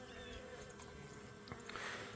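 A single honeybee buzzes near a hive in fall as bees die off before winter. The steady droning hum is close and faint, with slight pitch shifts as the insect moves.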